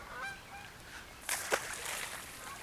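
Geese honk in a loud burst of several overlapping calls near a flooded creek during a fishing outing, rising sharply partway through after quieter outdoor ambience, with no talking.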